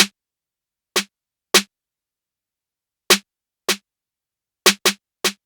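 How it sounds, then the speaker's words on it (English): Two layered snare drums hit hard together in a beat, with sharp, isolated cracks at an uneven rhythm and silence between them. "I like to layer 2 different snares on top of each other"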